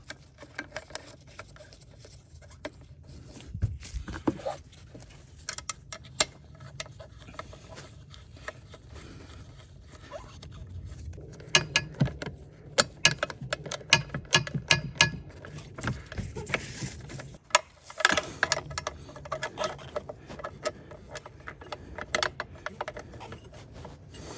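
Intermittent ratchet clicks and light metallic ticks from tightening 10 mm bolts at the back of a ported car intake manifold, scattered in short bursts across a quiet garage background with no talking.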